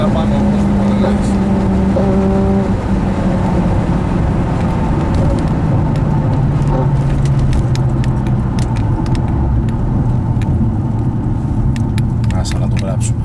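A BMW Z3 drives along with a steady, loud engine rumble, and its tone drops early on as it shifts up a gear; voices talk over the engine throughout.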